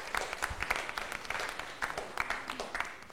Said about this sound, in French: On applaudit pour les membres du jury